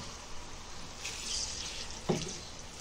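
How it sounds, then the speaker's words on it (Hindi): Tomato puree poured into a hot pan of browned onions for an egg paneer gravy, giving a soft sizzle and wet spatter that swells briefly, then a sharp splash-like burst near the end, with no talk. "अभी हम ये टमाटर प्यूरी डालेंगे।"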